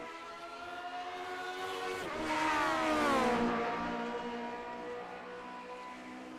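Vintage 1967 Grand Prix race cars lapping the Nürburgring Nordschleife in iRacing, engines droning steadily and rising to a loud, pitch-bending pass-by midway before fading back to a distant whine.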